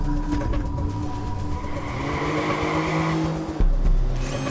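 A Lotus Elise sports car in the Watch Dogs video game drives with a steady engine drone and tire squeal, with a brief louder bump near the end.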